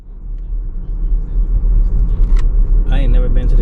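A car rolling up to a dealership gives a heavy, continuous low rumble that swells slightly near the end, with road noise and brief higher clicks over it.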